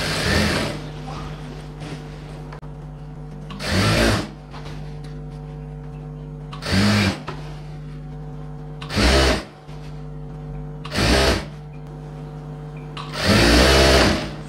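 A sewing machine stitches along folded fabric for a silk skirt and blouse in short bursts, five or six loud whirring runs separated by quiet pauses, with no talking.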